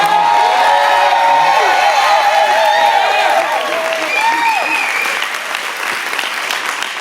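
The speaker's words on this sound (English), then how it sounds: "Y'all clap up them babies one more time." An audience at a Kwanzaa celebration gives children a loud round of clapping, with scattered cheers and voices mixed in. The applause fades slightly toward the end.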